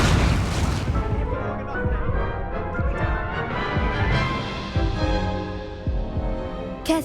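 Confringo fire blasts going off in Hogwarts Legacy during a spell duel, a string of sharp, punchy explosive thumps in quick succession over a busy, dense game mix.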